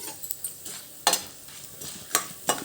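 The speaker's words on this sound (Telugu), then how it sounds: "మినపపప్పు వేరుశనగ గుళ్ళు ఎండుమిర్చి ఇవి వేసుకొని దీనిని దోరగా ఫ్రై చేసుకోవాలి" Urad dal, peanuts and dried red chillies crackle and sizzle in hot oil for a tempering, with close, bright popping bursts recurring every second or so over a steady fry hiss, stirred in a pan.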